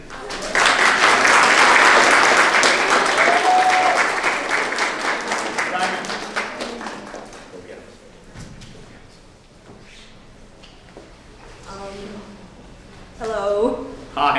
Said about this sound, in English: we have to greet her with a rousing, robust round of applause